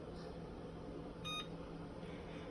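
A home kitchen oven's control panel gives a short electronic beep while bake at 350 and a timer are set, faint and brief over a steady low room hum.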